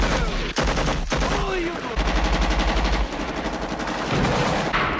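Dense automatic gunfire and rifle shots from a 1987 Vietnam War film, loud sustained bursts with heavy impacts, while a voice speaks over the battle.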